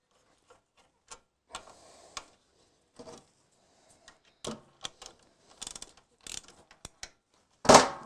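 Frame mounting bolts on a car being loosened by hand with a ratchet, sparse clicks and metallic ticks in short irregular bursts, close and fairly quiet, ending with a louder clunk.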